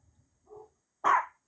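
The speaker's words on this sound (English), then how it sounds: "he's barking at my crew inside right now" A single sharp dog bark at workers inside the house, preceded by a brief soft whine, close by and otherwise quiet.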